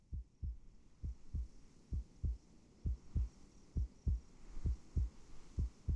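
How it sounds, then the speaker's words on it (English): A heartbeat sound effect from the video game Reverse: 1999 thumps in a slow, steady lub-dub rhythm. Low, muffled double beats repeat about a dozen times over a faint hum, with no one talking. "A heartbeat."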